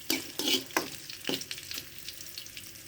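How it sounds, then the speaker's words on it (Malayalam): Green chillies dropped into hot oil in a pan while making moru curry, giving a few sharp crackling pops at first and then settling into a quiet, steady sizzle. "ഒന്ന് ചെറുതായിട്ടൊന്ന് മൂത്ത് പച്ചമുളക് ഇട്ടുകൊണ്ട് പൊട്ടിത്തെറിക്കുക"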